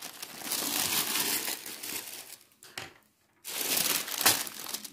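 A paper sewing pattern for a raglan sleeve being cut: close, crisp rustling and crinkling of paper in bursts, with a short quiet gap in the middle, and no speech.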